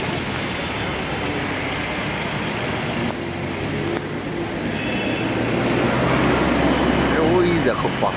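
A local bus starts climbing into the hills from Siliguri toward Gangtok. A steady, loud engine and road rumble fills the cabin and swells slightly toward the end, with voices murmuring underneath.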